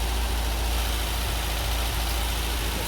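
An MGB GT engine idles steadily while its ignition timing is being set, giving a constant low rumble with an even mechanical hum and no talk over it.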